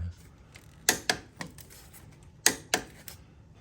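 A torque wrench tightens the rear idler shaft bolt on a Polaris Matryx snowmobile to 55 foot-pounds. Sharp metallic clicks come close by, in two pairs, against quiet shop background.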